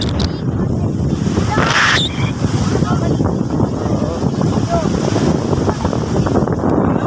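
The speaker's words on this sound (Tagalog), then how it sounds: "Malakas ang alon." Strong ocean surf rolls onto the beach at Paradise Resort in Naic, Cavite, a loud continuous wash of waves mixed with heavy wind buffeting the microphone, while people talk over it nearby.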